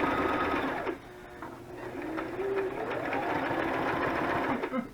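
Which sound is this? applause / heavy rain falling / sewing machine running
sewing machine running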